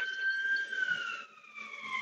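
Police sirens of London patrol cars passing in Lewisham, a loud wailing two-tone siren sweeping steadily and slowly dropping in pitch as the vehicles go by, with no voices over it.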